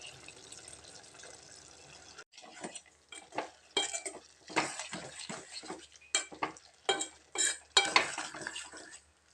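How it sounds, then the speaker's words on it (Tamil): Tomatoes are stirred as they fry in oil in a pan. A spoon or spatula scrapes and clinks against the metal in irregular close bursts, with faint frying underneath and no talking. "தக்காளி ஒரு 2 நிமிஷத்துக்கு எண்ணெயிலேயே நல்லா வதக்கி விட்டுக்கலாங்க."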